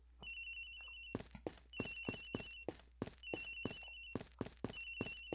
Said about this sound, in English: It sounds like a damn phone ringing.